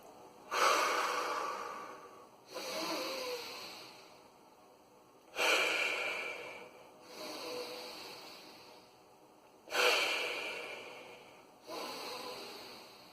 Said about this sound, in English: we're gonna go ahead and do the breathing pattern